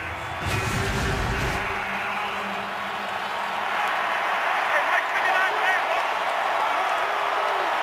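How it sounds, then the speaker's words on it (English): Stadium crowd at an NFL game between the Jets and Cowboys, a steady loud roar of fans urging on the defense on third and long, with a brief burst of noise early and a continuous wash of cheering throughout. "The crowd here urging on their defense to make a stop on 3rd and long for the Jets"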